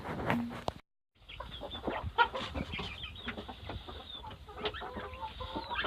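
Chickens cluck and chatter nearby on a farm, in irregular bursts over a steady outdoor background after a brief silent gap at the start.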